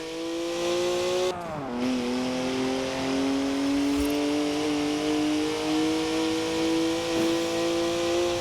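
A 3-litre twin-turbo straight-six with 335 horsepower revs hard in Forza Horizon 4, a loud steady engine drone that drops sharply on a gear change, then climbs and holds again with a brief tyre squeal.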